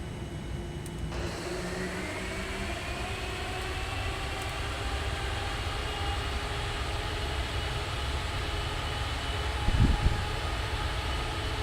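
A Boeing 787 taxiing out in the Prepar3D v4 flight simulator gives a steady, moderate jet engine whine and rumble that holds evenly throughout, with a short thump near the end.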